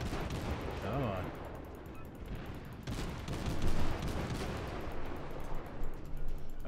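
Warship guns firing in the World of Warships game, low booming salvos and rumbling blasts rolling on at moderate distance, with a brief voice over them.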